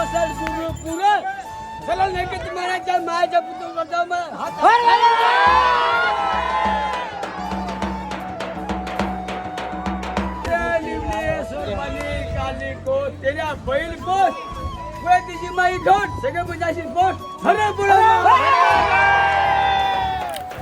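Crowd cheering and whooping at a village Pola bull festival, a dense, continuous roar of many voices with shouting children and bursts of louder cheers, noisy and close throughout.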